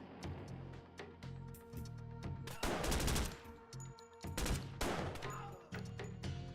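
Bursts of automatic gunfire in a video game hostage rescue mission, loud rapid volleys with short gaps between them, fairly close and dense.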